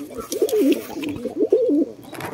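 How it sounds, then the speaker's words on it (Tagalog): A Black Widow pigeon coos twice in a row, each a low rolling warble, close and clear over faint background noise. "may kalapate tayo dito. Itong kalapate natin na Black Widow"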